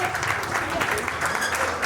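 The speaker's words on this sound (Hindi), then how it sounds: "एक बार आप सब अपने लिए तालियां बजाइए।" Steady applause from an audience at a Hindi poetry reading, a dense continuous patter of many hands clapping at moderate volume with no break.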